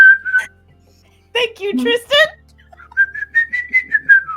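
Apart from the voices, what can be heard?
person whistling a tune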